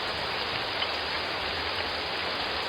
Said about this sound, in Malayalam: എന്ത് മഴയത്! അടുത്ത കാലത്തൊന്നും ഇത്ര വലിയ മഴ പെയ്തിട്ടില്ലല്ലോ.